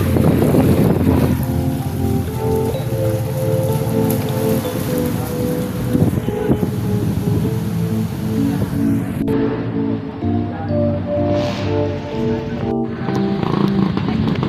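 Strong, steady typhoon wind roars with rain-like hiss and a low droning hum underneath, loud and continuous throughout.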